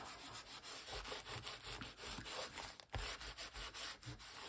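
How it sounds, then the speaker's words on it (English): An old cloth is rubbed firmly over gel-printed paper to burnish it down. The result is a close, quiet series of brisk back-and-forth rubbing strokes in an uneven rhythm, with no talking. "I also like to do it with an old cloth, really burnish it down"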